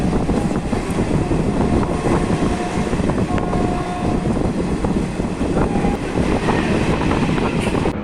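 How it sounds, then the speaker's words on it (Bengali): The Tista Torsa train pulls away from Naihati toward Bandel, giving a steady, loud rolling rumble with a constant wash of wheel and carriage noise throughout, and no voices. "এরপর ট্রেনটি বাঁ দিকে ব্যান্ডেলের দিকে চলতে শুরু করলো"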